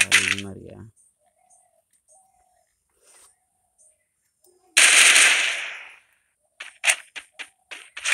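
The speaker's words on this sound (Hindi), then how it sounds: "मारो मारो उधर मारो मारो गोली मारो" Gunfire in the mobile game Free Fire: a burst of rapid shots near the start, a long sharp blast, then a quick string of cracking shots at the end, with a player shouting over the game sound.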